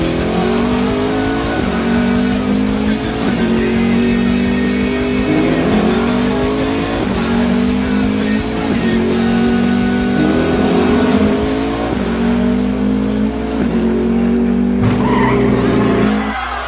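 Race cars in a video game race at Atlanta roar along together, engines revving up in repeated rising pulls with tire squeal and skidding. The sound is loud and continuous and near at hand, and a sharp hit comes toward the end.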